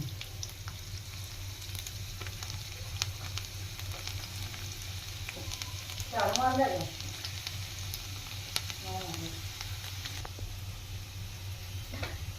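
Curry leaves and garlic fry in hot oil with a faint, steady sizzle and soft crackle, swelling into a brief louder spatter midway as more goes into the pan, then settling back.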